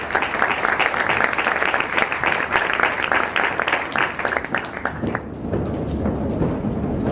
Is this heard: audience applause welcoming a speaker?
yes